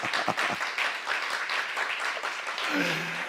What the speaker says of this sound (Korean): 박수를 하자